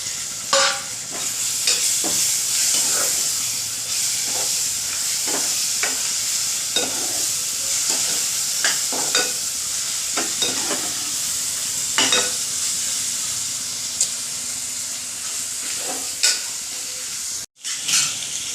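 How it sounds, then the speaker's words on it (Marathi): Prawns coated in green masala paste sizzling in hot oil in a pan, stirred with intermittent scraping strokes over a continuous frying hiss, with a sharp knock near the end. "ही कोलंबी आपण हिरवं वाटण लावून ठेवलेलं आहे ते त्याच्यामध्ये मिक्स करायचं"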